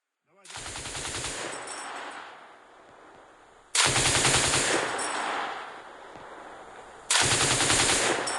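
Bursts of heavy-caliber machine gun fire in a combat zone, three long rattling strings of rapid shots separated by brief pauses, loud and close with echoing decay.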